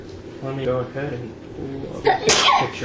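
A sharp sneeze bursts out once near the end, right after someone speaks in a calm voice, during an online game session of Star Wars The Old Republic.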